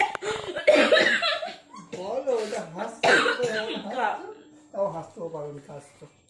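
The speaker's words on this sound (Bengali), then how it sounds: "কাশি পেয়ে গেছে।" A person coughs in several harsh bursts with throat clearing, close and loud, mixed with chuckling and talk.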